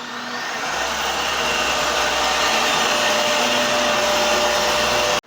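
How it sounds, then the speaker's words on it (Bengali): An electric polishing machine buffs a motorbike's front mudguard with a loud, steady whirring roar that holds nearly unchanged from start to finish, then cuts off abruptly. "আর এদিকে সামনের দিকে ভাই মডগার্ডটা পলিশ করছে।"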